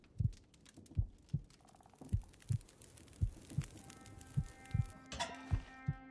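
A character's heart pounds steadily in the survival video game The Long Dark, about ten low thumps spread evenly through the clip. Faint game ambience and a rising tonal sound run underneath, and no one speaks.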